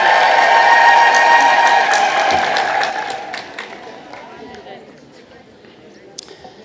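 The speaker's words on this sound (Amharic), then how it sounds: "ከኔ ጋር ስላልነበራችሁ እናንተ ግን በሁለት እጃችሁ አጨበጨባችሁ" A church congregation claps hands together, a dense burst of clapping that thins into scattered claps and fades over several seconds, with a voice speaking over it.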